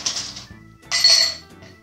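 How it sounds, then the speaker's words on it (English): Ice cubes clink and rattle into a cocktail shaker glass for a honey bourbon drink, two bright bursts of clatter close to the mic with a brief pause between. "So, in the shaker glass, a little bit of ice."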